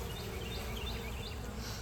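Bees swarming around cottonwood trees in a yard produce a steady, dense buzz, with individual insects droning closer and fading throughout, all without any voices.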